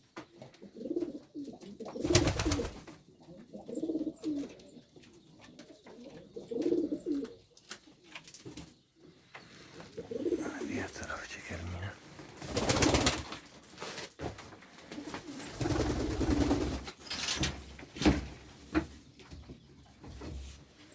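Pigeons coo repeatedly in a high-ceilinged coop, soft throaty calls recurring through the space, broken by several bursts of wing flapping as birds take short flights.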